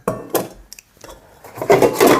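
An old camping kettle is handled, giving a few close, hollow knocks and scraping rubs, ending in louder clattering contact.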